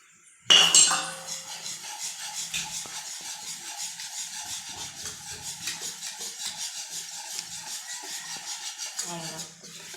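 Steady scraping and clinking of a utensil stirring thick dhokla batter with lemon in a metal pot, continuous and close, with a few louder knocks against the rim.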